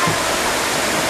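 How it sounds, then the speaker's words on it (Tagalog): Tamaraw Falls, a waterfall in Oriental Mindoro, Philippines, roars as a loud, steady broadband wash of falling water that fills the whole short moment, with no voices. "atin munang silipin ang Tamaraw Falls"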